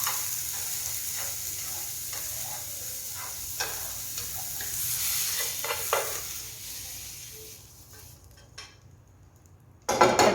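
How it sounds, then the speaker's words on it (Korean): Vegetables for bibimbap stir-fry in an oiled pan with a steady soft sizzle, broken by a spatula scraping and tapping against the pan, then a louder clatter near the end. "살짝 투명해질 정도로만 볶아주시면 됩니다"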